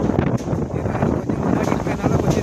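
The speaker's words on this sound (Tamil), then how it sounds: "காற்று அடிச்சுன்னா பயங்கரமாக தான் அடிக்கும்." Strong wind roaring across the microphone outdoors, a loud continuous gusty rumble with a voice partly heard beneath it.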